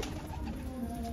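Soft, low cooing of Lalband pigeons, steady and close, with a faint hum running through the background.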